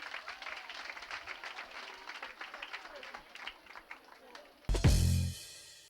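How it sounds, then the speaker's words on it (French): An audience at a school stage show in Banfora applauds, a dense bed of clapping running steadily for several seconds before a loud burst of nearby sound cuts in near the end. "On applaudit pour lui"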